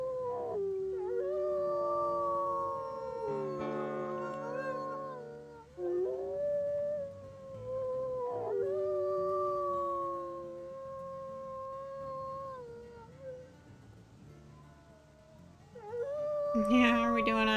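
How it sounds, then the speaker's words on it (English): Wolves in the WolfQuest game let out long, overlapping howls that rise and fall across the stretch, several voices layered together and clear over quiet surroundings. "Let's go ahead and howl and strengthen this."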